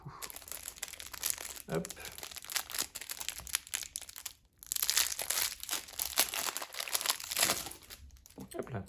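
Crinkly wrapping being torn open on a Halloween calendar gift, close rustling and crumpling in bursts with brief pauses, while someone speaks a word over it.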